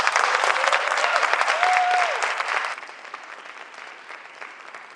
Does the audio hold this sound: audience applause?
yes